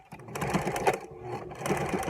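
A sewing machine runs in continuous bursts, stitching the seams of an 8x8 fabric comfort face mask, its close, steady motor buzz pausing briefly near the middle before resuming.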